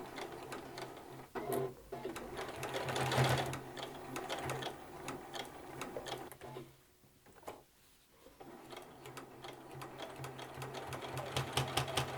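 A sewing machine stitches the closing seam of a hexagon mini quilt with the needle set far right, running in steady mechanical bursts with a brief pause partway through and no talking.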